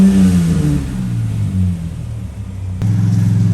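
A turbocharged Ford Falcon EF engine set up for E85 idles loudly and close, a deep steady rumble with slight rises in pitch and a brief dip before the note settles again.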